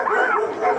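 A dog gives a short run of yelping, whimpering barks, fairly loud and close, with the cries rising and falling across under a second and no talk over them.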